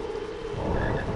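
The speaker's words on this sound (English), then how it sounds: "Come here, frog." A frog croaks in the Harry Potter 2 video game, a steady close croaking that grows slightly louder partway through, set against a constant game ambience with no talking.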